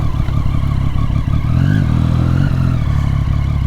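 A Triumph Street Triple 675 motorcycle fitted with an Arrow aftermarket exhaust idles and blips its throttle up close, giving a loud, rumbling burble that rises briefly in pitch and then settles.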